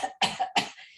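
A single person's cough, close and fairly loud, breaking into two or three harsh bursts in quick succession with no talking around it.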